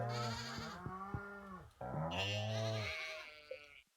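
Sheep in Stardew Valley give two long wavering bleats back to back, clear and close, with nothing else audible around them.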